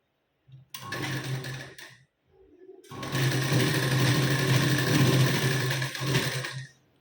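A sewing machine stitches a blouse, running in a short burst and then in a longer steady run, loud and close with a dense mechanical whir and no talking.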